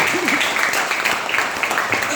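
A motivational training audience claps for Bu Devi in a short, fairly loud burst of mixed handclaps, with a voice briefly heard early on.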